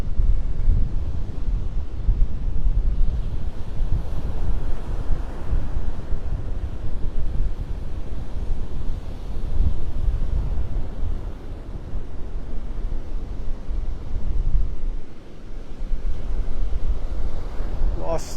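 Strong wind whipping in off the Gulf at Delnor-Wiggins beach after Hurricane Helene, a constant heavy roar buffeting the microphone with surf rumbling beneath, steady and loud throughout.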